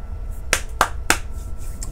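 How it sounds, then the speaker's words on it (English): Three sharp hand claps in quick succession, close and fairly loud, over a steady low game background hum during a session of the city-building game Anno 2070 Deep Ocean. "Clap my hands in thinking."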